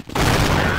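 A grenade blast in Counter-Strike on the de_inferno map, a sudden loud burst that holds as a broad rumbling roar for the rest of the moment, with no voices over it.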